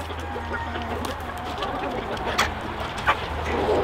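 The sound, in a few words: chickens clucking on a chicken farm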